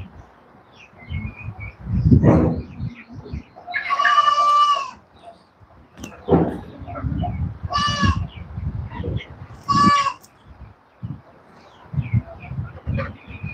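Farm goats bleat several times, loud and close, with quieter rustling and animal noises between calls, while a person talks at times.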